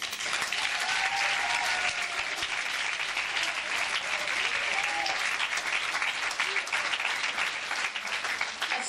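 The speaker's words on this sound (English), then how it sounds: "everyone, that deserve a great round of applause" Audience at a closing ceremony applauds in a sustained, dense burst of clapping that stays steady and loud from start to finish, with no voices standing out.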